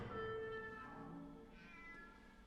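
A cat meows in a scene from the Harry Potter film, a drawn-out wavering cry heard alone over faint film background for a couple of seconds.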